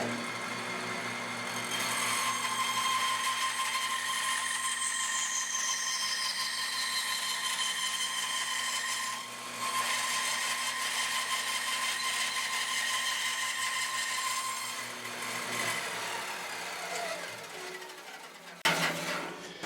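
A band saw cutting freehand through wood, a steady whining motor hum with a sustained tonal drone and faint grinding of the blade in the cut, running continuously before cutting out abruptly near the end.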